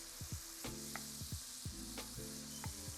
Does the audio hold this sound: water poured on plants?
no